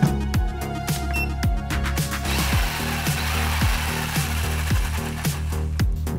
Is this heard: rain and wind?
no